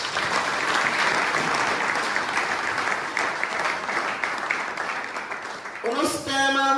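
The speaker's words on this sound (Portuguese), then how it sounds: "Uma salva de palmas para nosso Deus." A church congregation applauds during a worship service, sustained dense clapping that fills the room, then gives way at the end to a voice and instrument tones.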